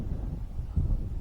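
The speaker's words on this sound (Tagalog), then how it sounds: "Sobrang lakas ng hangin, no?" Very strong wind buffets the microphone outdoors during a fishing trip, producing a loud, continuous low rumble that swells briefly near the end of a short burst.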